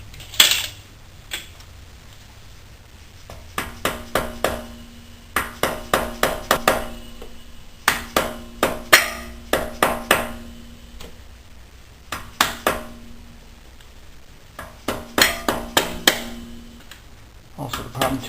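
Metal tool working at the soft aluminum cylinder head of a VW Golf, Cabrio or Jetta during a timing belt oil seal job, heard as close clusters of sharp metallic clicks and ringing pings in bursts separated by short pauses.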